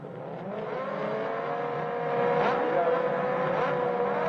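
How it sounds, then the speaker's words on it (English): Australian race cars sit revving on the starting grid before the start. Their engines make a dense, continuous roar that grows louder midway and holds steady. "Getting ready for a race start for Aussie race cars"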